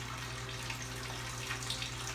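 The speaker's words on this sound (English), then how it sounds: "We'll take some hot water and flush the sugars out of the corn and the grains." Hot water draining through a corn and grain bourbon mash to flush out the sugars, a steady faint trickling flow with a low hum underneath.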